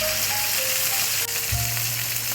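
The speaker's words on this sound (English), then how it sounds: "We have our steak frying on the griddle." Steaks, a T-bone and a New York strip, sizzle and crackle on a griddle in a steady, close frying hiss, with a faint tonal hum in the background.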